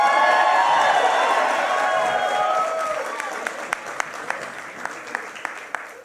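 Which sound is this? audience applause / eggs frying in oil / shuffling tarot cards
audience applause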